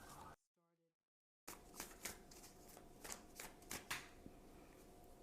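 Oracle cards shuffled by hand close up, a busy riffling patter with sharp slaps after a short quiet gap, a faint voice heard briefly at the start.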